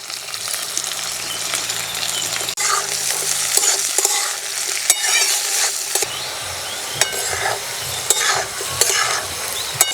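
Beans, chopped green chillies, carrot and potato are stirred and fried in a pan for a puffed-rice vegetable snack, with a constant close sizzle and repeated scraping clatters of the spoon against the pan.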